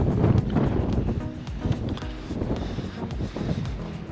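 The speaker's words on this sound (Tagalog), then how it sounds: "It's so windy." Strong wind buffets the microphone outdoors in cold weather, a loud continuous roar with gusting swells and no talk heard.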